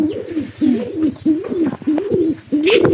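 Pigeons coo in a steady rhythm, five rolling low calls close by with brief pauses between them and no other sound.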